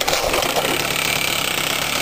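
A small gasoline engine with a kill switch has just been cold-started in a workshop and settles into a rough, steady idle, loud and close with a dense mechanical chatter.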